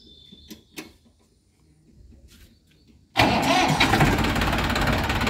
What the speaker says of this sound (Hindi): एक बार सेल्फ मार दी उसकी चाबी है।